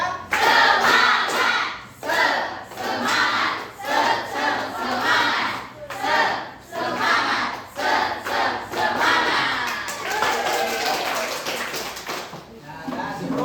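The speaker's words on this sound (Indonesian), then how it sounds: "Tepuk semangat 1. Tepuk semangat 2. Tepuk semangat 3." A classroom of students performs a spirit clap routine, with repeated bursts of group clapping in quick rhythmic sets and brief pauses between them, mixed with loud group voices.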